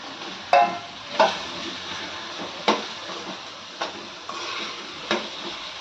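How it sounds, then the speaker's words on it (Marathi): Soaked moong dal is stirred in hot oil with spices for a spring onion greens bhaji: a soft steady sizzle broken by regular spoon scrapes roughly every second, close and alone. "आता ह्यातच मी ही भिजवलेली मुगाची डाळ टाकून घेणार आहे"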